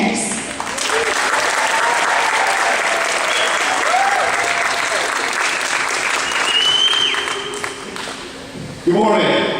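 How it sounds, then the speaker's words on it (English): Sustained applause from a conference audience greeting a new Vipers head coach at a DECA leadership event, a dense steady clatter of many hands lasting several seconds before dropping off near the end. "I really appreciate those claps"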